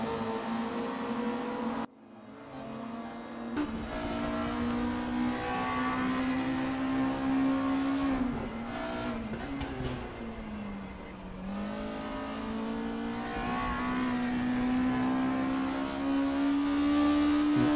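Scirocco race cars in a racing video game lapping the Bathurst circuit, a steady, loud engine drone rising and falling in pitch through gear changes, with a brief dip near the start and no voices.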